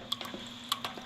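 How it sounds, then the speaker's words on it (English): Water drips in a bathroom in a Roblox game, a few soft, distinct drops landing irregularly over a faint steady hum. "It's dripping."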